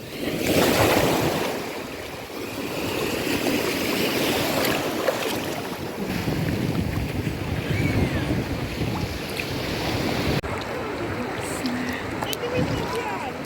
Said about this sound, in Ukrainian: З цього боку таки є хвиля.